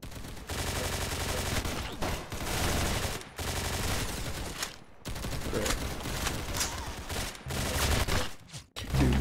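Rapid continuous gunfire in a Roblox prison escape game, dense bursts of automatic shots with brief pauses, loud and close throughout.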